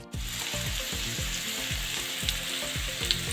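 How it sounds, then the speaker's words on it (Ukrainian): Steady, dense sizzling of potatoes frying in lard in a pan, with a faint repeating rhythmic clatter underneath, close and continuous throughout. "її необхідно попередньо обсмажити, додавши на пательню столову ложку смальцю"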